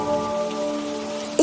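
Rain falls steadily at night in a cartoon, a soft, even patter under a sustained tonal hum, with a brief sharper splash right at the end.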